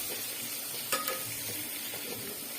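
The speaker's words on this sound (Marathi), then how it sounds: "कढीपत्ता टाकला का हलवून घेऊया, म्हणजे कसं मिक्स, म्हणजे कढीपत्ता पूर्ण मिक्स होईल." Curry leaves fry and get stirred in a pan for biryani, a continuous close sizzle with a couple of sharp scraping strokes, no voices.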